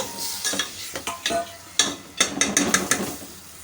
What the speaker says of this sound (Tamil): பாசி பருப்பை சேர்த்துட்டு ஒரு தடவை அப்படியே நமக்கு மிக்ஸ் பண்ணி விட்டுக்கலாம்